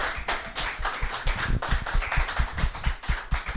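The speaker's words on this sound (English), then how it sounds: "A big round of applause for all our guests that have joined us." A studio audience gives a big round of applause for the guests of a live fan show at a football supporters' HQ, dense steady clapping with sharp individual claps standing out, close and lively throughout.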